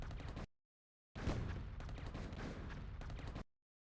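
Orbital bombardment from space with a meson cannon in the strategy game Emperor of the Fading Suns: a short burst of rumbling, crackling blasts, then a longer sustained barrage, separated by silent gaps and fairly quiet overall.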